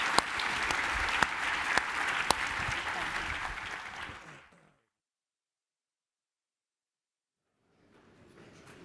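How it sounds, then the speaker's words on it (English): An event audience applauds panelists at a technology summit, a dense burst of clapping for about four seconds that cuts off abruptly, followed by silence and a faint murmur returning at the end. "give the panelists a big round of applause"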